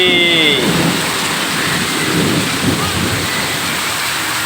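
Heavy rain pours steadily in a dense, continuous hiss, loud and close, with a brief tonal voice at the very start.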